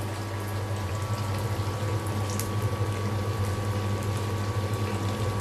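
Beef tripe frying in a pan gives off a steady, even sizzle with a low bubbling hum beneath it, continuous and close with no breaks.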